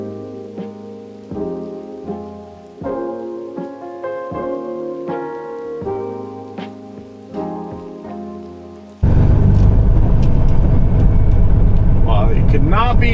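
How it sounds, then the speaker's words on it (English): After a stretch of music, a grain trailer unloading its grain takes over as a loud, steady rushing hiss, like heavy rain, that fills the rest of the clip. "we all know how a grain trailer unloads."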